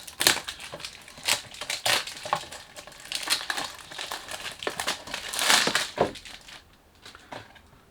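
Packaging crinkles and crackles steadily as a perfume box is unboxed, a close, busy stream of rustling, crumpling and snapping sounds without speech.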